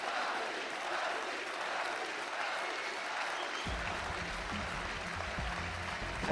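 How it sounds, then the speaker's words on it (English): Dense, sustained applause from a large arena crowd at a League of Legends Worlds 2015 semifinal, loud and continuous, with a low rumbling layer of crowd noise joining partway through. "the crowd is showing their appreciation"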